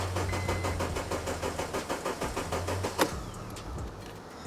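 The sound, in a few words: Honda Civic Type-R engine idling with engine flush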